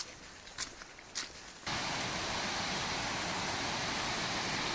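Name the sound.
Long Creek Falls waterfall on the Appalachian Trail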